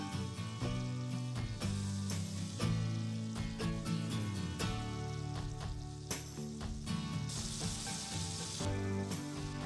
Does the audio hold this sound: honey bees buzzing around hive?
no